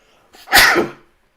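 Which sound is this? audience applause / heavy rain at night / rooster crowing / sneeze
sneeze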